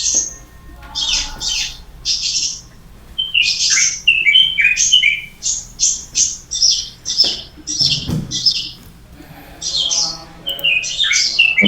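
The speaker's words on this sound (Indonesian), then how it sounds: "Burungnya Mbak Esti nyaring banget ya" Songbirds chirp loudly and shrilly in quick bursts of high trills and tweets, close by and almost continuous.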